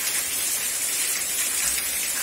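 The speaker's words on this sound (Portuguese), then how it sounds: "Tá tudo molhado, tá molhando aqui na chuva." Steady rain pours onto a soaked backyard in Itapura, São Paulo, making a dense, even hiss close by with no voices.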